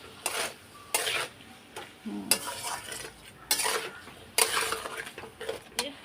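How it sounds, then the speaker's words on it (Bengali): A metal spoon stirs meat with a little water in a cooking pot, making repeated scraping and clinking strokes against the sides, with a faint sizzle underneath. The strokes are fairly quiet and close. "তো জল দিয়ে একটু কষিয়ে নিই নালে লেগে যাবে"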